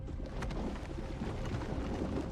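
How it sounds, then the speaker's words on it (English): Underwater earthquake with rocks raining down in the Ecco the Dolphin video game, a dense low rumble with scattered crackling impacts, steady and close throughout. "this time it begins with an earthquake. Our hero, of course, is in an underwater cave when the rocks overhead begin to rain down on him."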